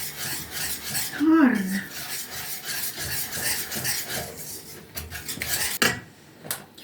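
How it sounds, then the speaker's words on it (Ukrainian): Continuous scraping and clinking of a whisk mixing zucchini pancake batter around a bowl, rhythmic and close, with a few sharper knocks toward the end. "Зараз вимішаю собі вінчиком, щоб до однорідної маси"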